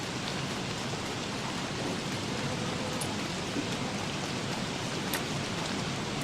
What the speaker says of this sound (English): I hope you like hearing rain sound effects, because that seems to be what's going on.